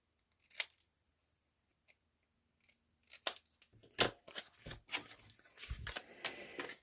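Scissors snip through paper tags in a few crisp, close cuts, quiet and isolated at first, then a quicker cluster of snips and paper rustling.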